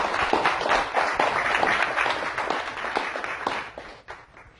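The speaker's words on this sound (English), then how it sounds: "Give her a big round of applause" A dense round of applause from an audience fills the room, steady and loud for several seconds before tapering off near the end.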